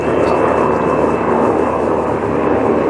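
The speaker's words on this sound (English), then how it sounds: "got a helicopter flying by." A loud, continuous aircraft drone with a steady engine hum fills everything, close and unbroken, like a helicopter passing low overhead.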